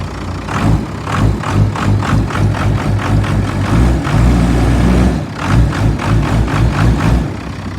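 A Cummins 12v diesel engine idles loudly and close up after a cold start, with a steady low rumble, rhythmic thumping knocks and a rattling clatter throughout.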